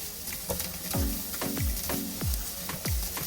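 Shredded chicken and chopped onion frying in a pan, with repeated clinks and scrapes of a spoon stirring over a soft, steady sizzle, close by.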